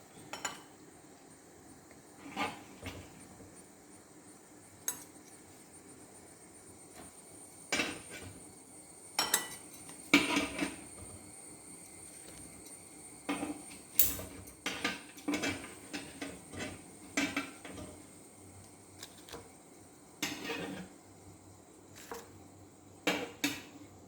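Kerala kumbilappam is being moved into a dish, with scattered clinks, taps and knocks of utensils against pots and plates, irregular and moderately close over a quiet background.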